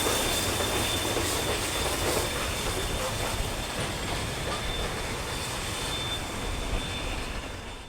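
A steam train in a video game, Train Sim World 3, rumbles along steadily with a continuous rolling roar and faint rhythmic clatter, holding an even loudness throughout.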